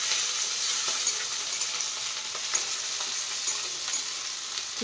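Onions and cashews frying in hot oil, a continuous bright sizzle with occasional crackles and soft stirring scrapes, close and steady with no talk.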